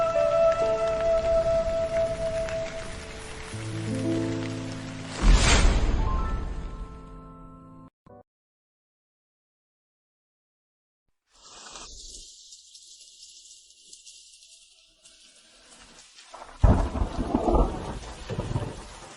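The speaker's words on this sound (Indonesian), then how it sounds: "Hujan deras begini" Heavy rain pours with a rumble of thunder, loud and continuous at first, then cuts out into near silence before a fainter rainy wash returns and swells again at the end.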